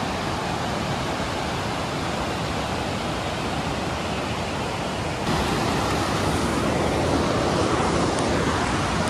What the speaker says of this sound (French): On se retrouve dans une putain de cascade quoi, sérieusement.